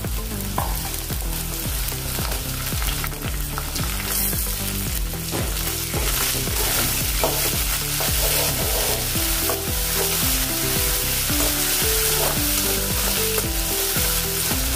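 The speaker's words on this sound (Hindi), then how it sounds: "सूखी लाल मिर्च और अदरक लहसुन को मैंने 2-3 सेकंड यानी थोड़ा सा मैंने भून लिया था और बाद में मैंने टमाटर डाला है" Tomatoes fry and sizzle in a pan with dried red chilli, ginger and garlic, a steady loud crackle running throughout with repeated scraping stirs and no talk.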